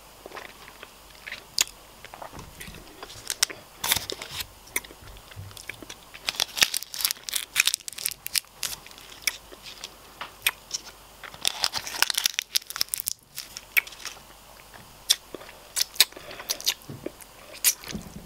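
Close, crisp crunching and chewing of Reese's white chocolate, with bites, wrapper crinkles and mouth sounds in irregular bursts, intimate and near throughout.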